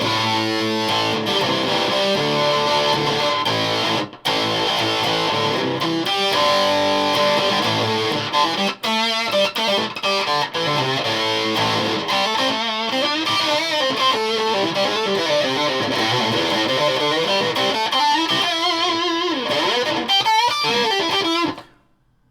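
Electric guitar on the bridge pickup through a Walrus Audio Eons Five State fuzz pedal, thick saturated distorted chords and riffs played continuously for about twenty seconds, loud and close, then cutting off abruptly.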